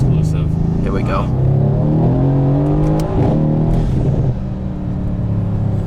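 A 2017 Mercedes-Benz C63S AMG pulls hard under acceleration, its engine note rising in loud, rumbling sweeps through the gears from inside the cabin, with people talking over it.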